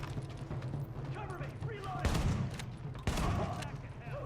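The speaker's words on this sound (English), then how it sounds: "I love the shotgun." Shotgun fire in The Division video game, loud blasts with broad sharp onsets near 2 s and 3 s amid a busy battle backdrop of other gunfire, with voices talking over it.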